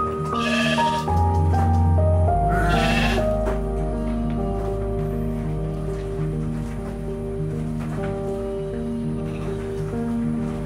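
Sheep and goats on a farm bleat loudly and close, overlapping calls following one another over a steady background of the flock.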